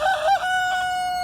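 Bantam chickens give a short, clear crowing call that holds steady for about a second, close by with no other voices.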